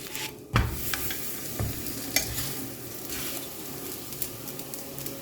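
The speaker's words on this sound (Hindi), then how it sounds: "अब इसे फ्राई करेंगे" A large paratha for a chicken tikka roll fries on a pan with a continuous close sizzle, broken by a few knocks and scrapes as it is turned.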